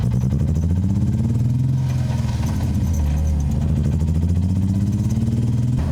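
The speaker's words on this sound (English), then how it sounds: "It's idling very low." A manual-swapped BMW E36's engine idles very low and loud up close, a steady rough rumble with a slightly uneven, pulsing beat throughout.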